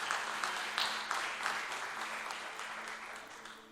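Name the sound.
applause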